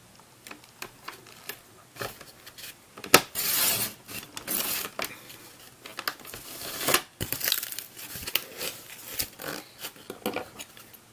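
A guillotine paper cutter slices through a piece of cardboard, with irregular crunching, creaking blade strokes and rustling handling of the board at close range, quiet overall with sharper bursts in between.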